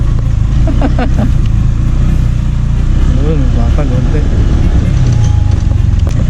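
A motorcycle rides over a rough mountain trail with a broken shock absorber, its engine a loud, steady drone with rattling bumps close by, while a rider talks over it.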